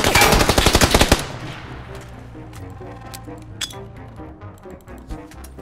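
A rapid burst of automatic gunfire rattles loud and close for about a second, followed by scattered tinkling and clinking sounds and faint distant bangs.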